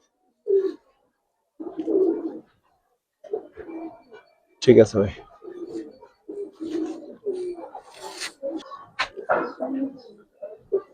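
Pigeons coo in low, repeated bursts close by, with someone speaking briefly among the calls.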